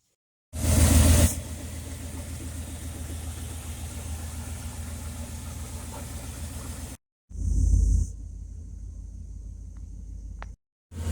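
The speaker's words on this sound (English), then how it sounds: "I was letting it warm up here and it just cut off on me" A Chevrolet Caprice engine idles steadily while warming up, a loud low rumble that starts abruptly, runs evenly for several seconds, drops out, then returns briefly before cutting off again.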